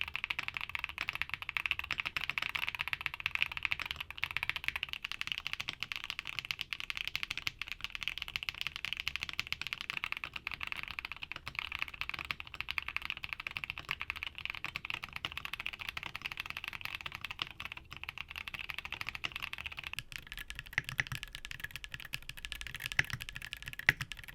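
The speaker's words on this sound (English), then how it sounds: "Now, here are back-to-back sound tests of all the switches we talked about today." Continuous rapid typing on mechanical keyboards fitted with marbly switches, a dense stream of clicks and clacks that shifts character slightly near the end as another switch set takes over.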